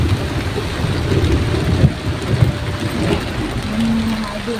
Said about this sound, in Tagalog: Parang ang lakas ng ulan.